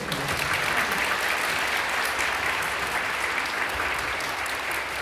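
A church congregation claps together after worship songs, a full, sustained burst of applause filling the room at a steady level for the whole stretch.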